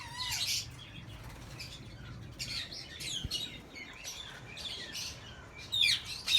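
Albino and lutino red-eye lovebirds in breeding cages chirp and tweet in quick overlapping calls, with bursts of wing flapping, close by and fairly loud, over a faint low background hum.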